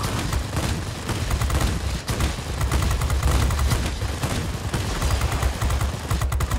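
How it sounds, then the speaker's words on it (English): A Tier 6 fighter plane's machine guns fire in a video game, a dense continuous rattling barrage that stays loud and steady for several seconds with only a brief break. "Oh, guns overheating again."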